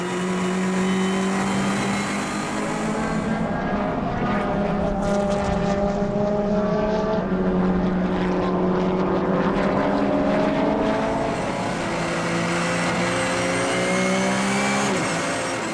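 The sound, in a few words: race cars racing at Assen, Dutch Supercars event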